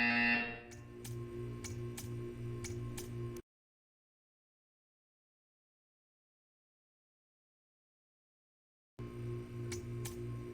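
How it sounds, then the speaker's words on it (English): Buzzer in the Portal 2 video game, a repeating electronic buzz with regular pulses and high clicking ticks, cutting off into several seconds of silence before the same pulsing buzz returns. "You will hear a buzzer."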